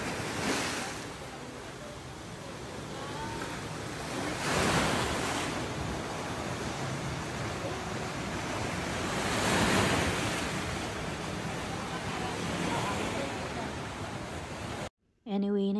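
Sea waves surge and wash at the mouth of a cave in Tawi-Tawi, a continuous rushing roar with periodic swells, mixed with wind buffeting the microphone.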